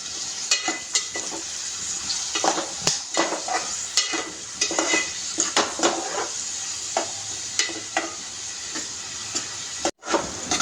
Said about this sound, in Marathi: कांदा जर आता लालसर होईपर्यंत आपण त्याला व्यवस्थित फ्राय करून घेऊ